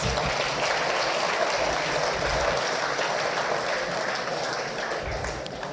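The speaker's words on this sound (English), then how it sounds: "another round of applause" Applause from an audience at a town hall people's forum in St Ann fills the room as a steady, moderately loud wash of clapping that tapers slightly near the end.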